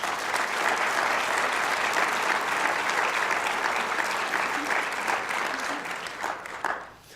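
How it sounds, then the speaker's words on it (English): An audience at a community presentation applauds, giving a steady, dense round of clapping for several seconds that fades out at the end. "Could you give them a round of applause?"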